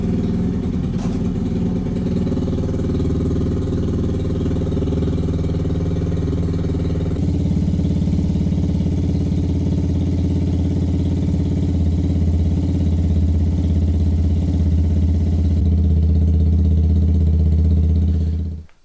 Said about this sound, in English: leave the bike running in gear so the chain can move around some more